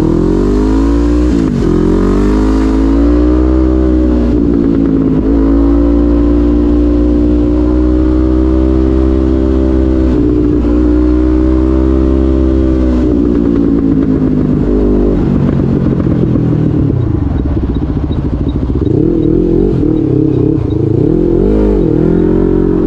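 Loud, close exhaust of a Honda CB500 motorcycle styled like a KTM revving hard to high RPM, the engine note climbing and dropping repeatedly with a rough, raspy roar.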